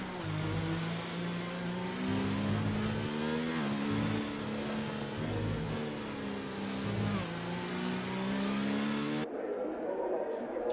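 Racing car engines roar continuously in a racing video game at a Mexico circuit, with steady high-pitched whining tones rising and falling as the cars accelerate and shift, loud and close throughout.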